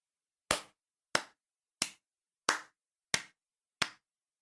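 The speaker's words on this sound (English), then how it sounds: "I slowly clapped my hands" Six slow, evenly spaced hand claps ring out sharply and alone against silence, each a crisp, close smack with a short decay, roughly two-thirds of a second apart.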